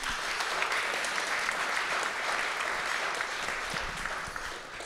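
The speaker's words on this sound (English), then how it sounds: "A round of applause for our panel," Warm, even applause from the audience at a voting-rights panel event, a continuous close wash of clapping that holds steady throughout without speech over it.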